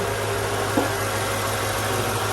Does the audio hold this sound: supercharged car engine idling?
yes